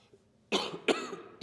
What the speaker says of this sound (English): Excuse me for this cough.